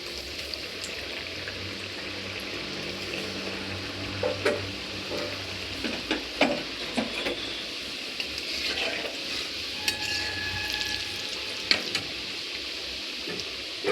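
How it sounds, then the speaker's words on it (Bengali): Small cut pieces of a crispy snack fry in hot oil in a wok, a steady sizzle broken by occasional clicks and taps from stirring, close by and with no talking. "তেলটা গরম হয়ে গেছে, এবার আমি এগুলো ছেড়ে দেবো।"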